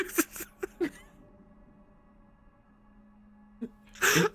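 Short bursts of noise, then a quiet stretch with a faint hum, followed by one loud, sharp sneeze close up at the end.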